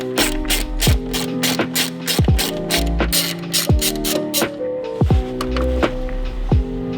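A ratchet clicks in quick repeated bursts while loosening a 10mm bolt on a Corrado VR6 engine, close and loud, with brief pauses between strokes and some clanking of tools.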